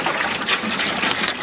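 Cow's milk is poured into a pot for homemade cheese, heard as a continuous close splashing gush of liquid.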